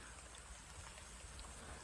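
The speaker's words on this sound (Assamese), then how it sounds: "চাই লওক গোটেই বৰষুণ পৰি আছে" Steady rain hisses down on a stilt hut at night in a constant wash of fine patter, fairly quiet, with no voices.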